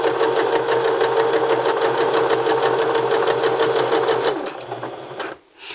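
A sewing machine runs a continuous straight basting stitch through fabric at the longest stitch setting, a steady, fast, close whirring hum that slows and stops near the end.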